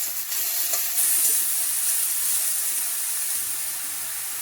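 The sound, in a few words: steak cooking on the grill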